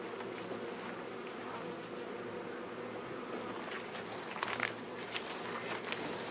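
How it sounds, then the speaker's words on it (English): Honey bees buzz in an opened beehive with only a few bees inside, a soft continuous hum with occasional closer flybys and light crackles. "first thing to say is there's not very many bees in there"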